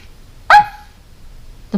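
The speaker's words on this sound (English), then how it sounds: "The puppy barked and nuzzled Katie back." A puppy gives a single sharp, close bark, followed by silence and a brief low sound at the end; no talking.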